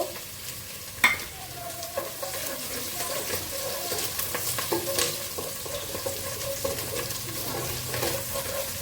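Green chilies, chopped garlic and onion frying in a pan, with a steady sizzle, stirring scrapes and a sharp knock near the start. No one speaks.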